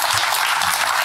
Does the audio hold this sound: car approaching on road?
no